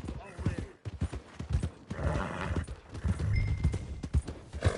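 Horse hooves clip-clop at a walk through a frontier town in Red Dead Redemption 2, the steady rhythmic clopping running close under a voice and a brief whinny.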